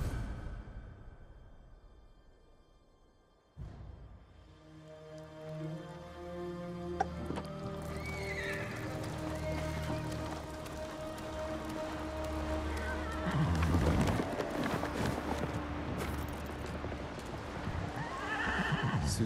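Kaze, a horse in the Ghost of Tsushima game, whinnies loudly several times over the clop of his hooves, with game music swelling around him and no voices.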